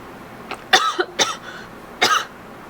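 A woman coughs several times, a short cough followed by a quick burst of two or three harsher coughs with a throat-clearing quality, then one more cough after a brief pause, close and fairly loud.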